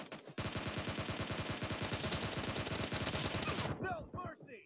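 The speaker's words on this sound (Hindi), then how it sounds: "मैं कम इसलिए बोल रहा हूँ क्योंकि आपको ताकि शूटिंग की अच्छी आवाज़ आए" Rapid automatic gunfire from a PUBG Lite team deathmatch in a warehouse map, a dense, loud, continuous burst of shots lasting several seconds before cutting off into brief quieter game sounds, with no talking.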